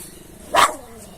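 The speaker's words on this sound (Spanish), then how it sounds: "Ahí están. Ladrándole." Dogs barking at home, giving a single short, loud bark that stands out from a quiet background.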